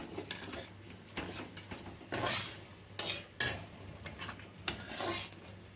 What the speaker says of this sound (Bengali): এবার 5 মিনিটের মতো মশলাটা আমি কষিয়ে নেব